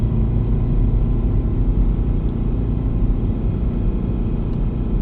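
Subaru BRZ with a 6-speed manual pulls in second gear at just over 3,000 RPM on a snowy mountain pass, its engine giving a steady, loud low rumble throughout with road noise from the snow tyres.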